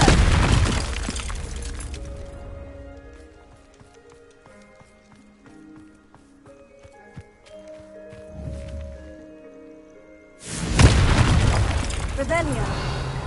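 Confringo blasting spells explode in the Hogwarts Legacy video game: a loud burst opens, quieter game sounds and music follow, then a second heavy blast erupts near the end and rumbles on.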